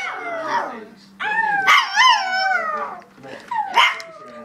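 Up close, a little chihuahua lets out loud barks that stretch into a wavering howl, the yips rising and falling in pitch across several bursts.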